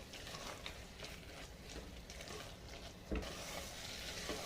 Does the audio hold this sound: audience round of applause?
no